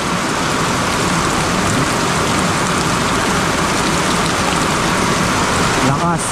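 Heavy rain pours steadily onto a surface, a dense, loud, continuous hiss that holds without a break, with a brief change near the end.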